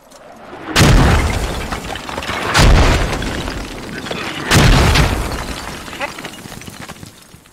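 Three heavy mortar blasts from the video game Squad land about two seconds apart, each a deep booming thud with a crackling tail, over steady battlefield rumble and background voices.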